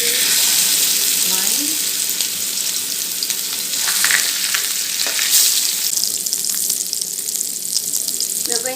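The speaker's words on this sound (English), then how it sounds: "our oil is already heated up, so we are going to place our patties." Burger patties being placed into heated oil, giving a loud, steady, close sizzle and crackle that fills the whole stretch, with a brief spoken word over it.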